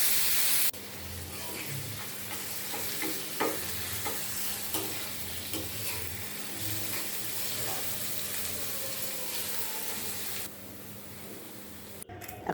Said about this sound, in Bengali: এর জন্য শুকনো মরিচ, রসুন কুচি, পেঁয়াজ কুচি একটু তেলে ভেজে নিচ্ছি